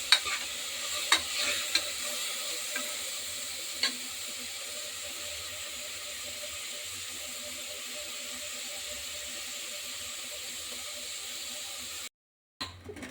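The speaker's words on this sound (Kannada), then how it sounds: "ಈರುಳ್ಳಿ ಮತ್ತು ಟೊಮೊಟೊ ಹಾಕಿ ಸ್ವಲ್ಪ ಕೆಂಪು ಆಗೋವರೆಗೂ ಮಾಡಿಸ್ತೀನಿ" Onions and tomatoes frying in a pan for vegetable palav, a steady close sizzle and hiss with a few sharp pops and stirring clatters early on, cutting out briefly near the end.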